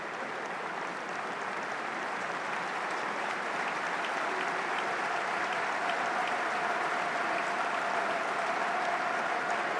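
Steady, sustained applause from Queens Park Rangers and Millwall football fans filling a stadium during a lengthy delay in an EFL Championship match, a dense even wash of clapping lasting throughout without break.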